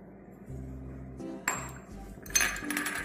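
Chocolate mixture is stirred into a cream cheese mixture in a bowl, giving soft scraping with a few sharp clinks and taps of utensil against dish, close and fairly quiet, with no voice.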